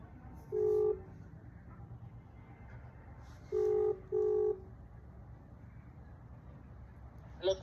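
Phone keypad dialing tones while placing a call: a short beep, then a pair of quick beeps a few seconds later, clear over quiet room hiss, with no ringing evident.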